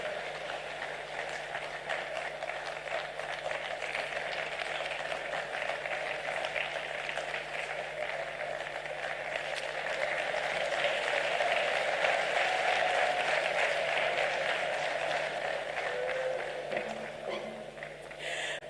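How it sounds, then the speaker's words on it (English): Steady applause from a large audience at a commemorative lecture in Ghana fills the space continuously, moderately loud and unbroken, with a faint hum underneath, welcoming the keynote speaker. "Please welcome her with a round of applause."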